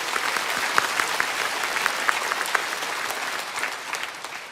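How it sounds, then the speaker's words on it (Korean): A church congregation at a special autumn dawn revival service claps together in steady, dense applause that fills the room and keeps an even level from start to finish, with no speech over it. "우리 하나님께 영광의 박수 올려드립시다."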